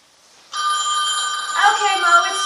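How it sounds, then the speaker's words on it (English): A telephone rings with a bright, sustained electronic trill that starts abruptly and continues loudly. "Okay, Mo, it's ringing."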